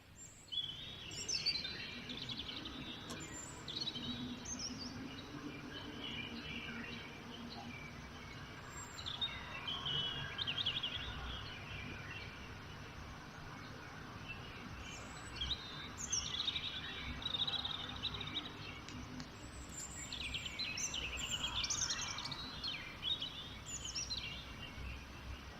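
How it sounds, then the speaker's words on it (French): Birds chirping and singing at 4:30 am at home in Shanghai's Guangming area, repeated bright twittering phrases over a low constant hum of background noise, no voices. "Maintenant, les oiseaux sont en train de chanter."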